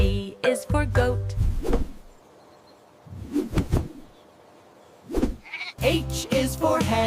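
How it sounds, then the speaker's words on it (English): Several loud goat bleats ring out with short pauses between them, close and clear, in a children's alphabet learning song. "G is for goat."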